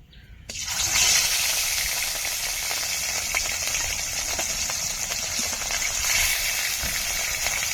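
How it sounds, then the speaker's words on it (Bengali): Fish rubbed with turmeric powder hits hot oil in a wok and sizzles loudly right away. Close, steady frying crackle carries on unbroken with no voices. "তেল গরম হয়ে গেছে, মাছগুলো দিয়ে দেব।"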